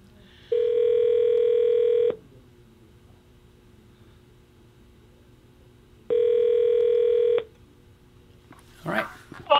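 A telephone call placed from an office line, heard as two long, steady electronic ringing tones several seconds apart with near silence between, and a brief burst of noise at the end.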